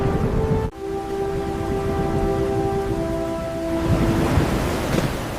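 A storm roars with steady heavy rain and a broad rumbling wash, broken by one sharp crack near the start, with a sustained tonal hum fading out midway and the rain swelling again toward the end.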